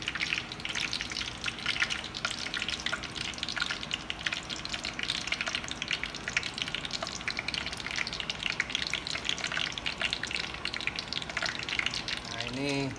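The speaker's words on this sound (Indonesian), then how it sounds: "Kita masukin ke adonannya lalu digoreng" Batter-coated stuffed tofu fries in hot oil as a dense, continuous crackle with scattered pops that holds steady for the whole stretch. The frying is close and fairly loud, and no one speaks.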